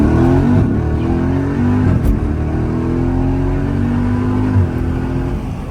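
An SRT Jeep with a Borla X pipe and exhaust cutouts roars while driving at night, its exhaust revving up through gear changes with a loud, deep, close drone that dips and climbs.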